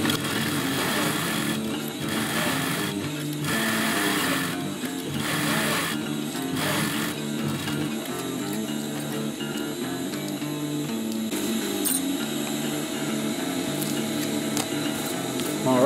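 A sewing machine runs a second round of stitching along a folded seam on a homemade chest pouch, giving a steady close whir with a few brief dips in pace.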